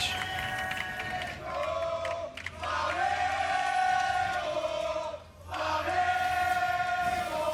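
A large esports arena crowd at the 2019 League of Legends World Championship play-in roars and cheers in sustained waves, with two brief dips before swelling again, loud and close.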